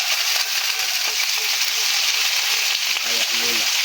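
Chopped bottle gourd (upo) sizzles loudly in a hot pan with sautéed aromatics, a steady dense frying hiss lasting throughout, with faint stirring clatter near the end.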